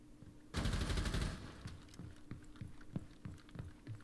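A rapid burst of automatic gunfire in an online shooter video game, loud and dense for about a second, followed by a series of quieter, evenly spaced single shots or thumps.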